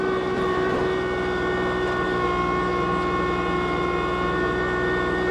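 Kubota LX2610 compact tractor engine running steadily under snowblower load, a continuous loud droning hum with strong harmonic tones and no talk.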